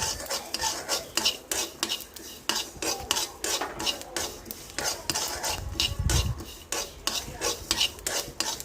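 Sesame seeds and peanuts dry-roast in a pan, stirred by hand with rapid rhythmic scraping and rattling that repeat steadily throughout, over a faint sizzle with no voices.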